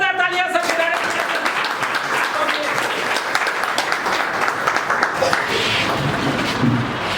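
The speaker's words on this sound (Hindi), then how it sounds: "एक बार जोरदार तालियां सब के" Audience at a business leaders' meeting breaks into continuous, loud applause, dense clapping sustained throughout with voices mixed in underneath.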